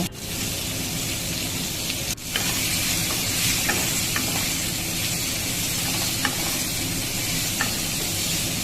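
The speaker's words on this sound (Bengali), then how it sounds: "দিয়ে এর মধ্যে সামান্য নুন আর হলুদ দিয়ে ভালো করে নাড়িয়ে নেব" Amla (Indian gooseberries) fry in hot oil with salt and turmeric, a dense continuous sizzle with a sharp spatula knock early on and light scattered scrapes from stirring, close up with no voices.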